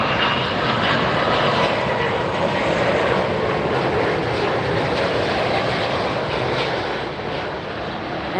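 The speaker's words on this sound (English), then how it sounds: "Aviation Cargo Flight 4024, Airbus 330-200F coming in" An Airbus A330-200F cargo jet landing at Miami Airport makes a loud, sustained engine roar close by, a broad even rush that eases slightly near the end.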